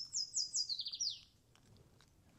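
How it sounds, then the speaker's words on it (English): Birds chirp in a rapid descending series of bright tweets during a snapper fishing outing, fairly close and clear for about a second and a half, then fade to quiet background ambience. "The birds are chirping"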